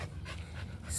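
A pet dog named Swaggy pants in quick, steady breaths close by, a soft rhythmic huffing with a brief louder puff at the end.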